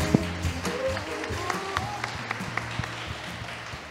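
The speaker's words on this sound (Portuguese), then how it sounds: "Palmas para ela." An audience at a creative economy panel during a Brazilian festival claps in a brief, fairly sparse round of applause, individual claps audible over a low room hum that thins out after a few seconds.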